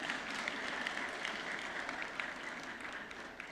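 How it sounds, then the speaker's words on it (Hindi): A crowd at a national water awards ceremony gives sustained, dense applause that sounds somewhat distant and soft, with a steady wash of clapping and no speech over it. "तो एक बार जल शक्ति मंत्रालय के लिए जोरदार तालियां हो जाएं आपकी।"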